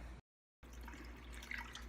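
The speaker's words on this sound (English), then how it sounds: "so I add the water in there to about a 1/4 inch of the top" Water is poured into a crock pot of bean chili until it is about a quarter inch from the top. A steady, close hiss of running liquid plays after a brief dropout at the start.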